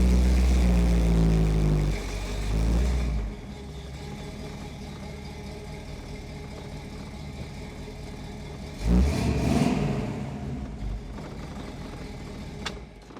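A 1942 Willys car engine runs steadily, revving loudly at the start, then settling into a low, even hum with a brief surge of revving near the middle.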